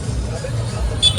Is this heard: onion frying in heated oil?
no